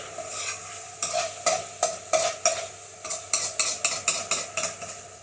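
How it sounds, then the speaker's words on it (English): Base gravy ladled into a pan of sizzling chicken phall and stirred, a steady frying sizzle under a quick series of sharp spoon scrapes and knocks against the metal pan, close and loud. "the last ladle of base gravy is going in now, so make another room for it"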